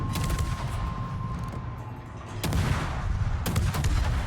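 Heavy naval gunfire in World of Warships, with repeated deep booming shots around the start and again later over a continuous rumbling battle background, loud and close.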